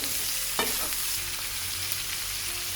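Sliced peppers and onions stir-fried in a pan for pork bites, a steady close sizzle with faint stirring scrapes and no talking.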